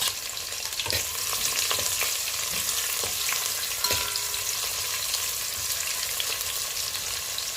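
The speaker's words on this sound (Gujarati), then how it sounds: "જીરું અને મસાલા બધા મિક્સ થઈ ગયા તેલની અંદર આપણે નાખી દઈએ છે ડુંગળી" Chopped onion frying in hot oil with bay leaves, cloves, peppercorns, cinnamon and cumin for veg pulao. A loud, continuous hiss and sizzle runs throughout, broken by a few soft stirring knocks.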